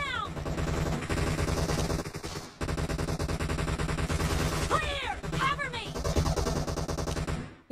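Rapid, continuous gunfire in PUBG Mobile rattles on without letup, with brief sharp whistling sweeps and faint voices underneath.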